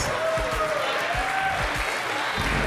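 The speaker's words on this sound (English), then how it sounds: "y'all give him a round of applause" Guests at a wedding reception applaud in a steady, dense patter that fills the room, with cheering voices and a bit of talk mixed in throughout.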